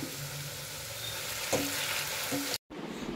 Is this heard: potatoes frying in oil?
yes